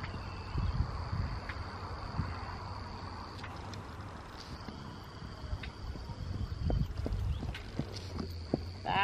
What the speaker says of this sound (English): That's a much happier horse right there.